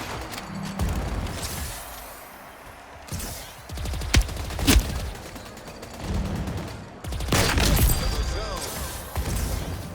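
Sniper rifle gunfire in an online shooter game, sharp shots and bursts of fire popping out between stretches of quieter game noise, with a player talking over parts of it.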